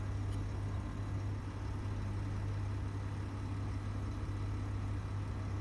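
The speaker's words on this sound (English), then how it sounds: "Wow, that hydrogen engine's loud." A loud hydrogen engine runs in a video game, giving a steady, close, low droning hum with a constant deep tone and even loudness throughout, heard alone with no talking.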